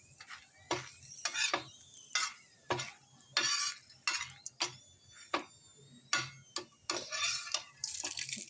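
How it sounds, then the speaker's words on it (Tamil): Brinjal pieces for chutney handled on an oiled tawa, a steady run of sharp scraping and clinking strikes of a spatula against the metal, roughly every half second, close and fairly loud, with a light background sizzle. "அகைன் சேம் தவாலையே கொஞ்சமாக ஆயில் விட்டு நல்லா ஃப்ரை பண்ணிக்கலாம்."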